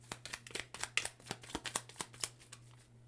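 Tarot cards are riffled in quick crisp flicks, about a dozen soft snaps in an even rhythm, close and quiet with no talking.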